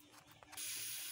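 A brief mechanical rattle gives way to a loud, sustained steam hiss from a pressure cooker whistle while cooking vegetable pulao, close and continuous to the end.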